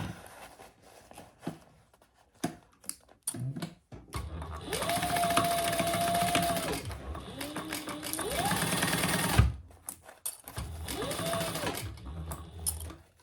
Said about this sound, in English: Now I'm going to just baste across the top there at an 1/8 inch seam allowance.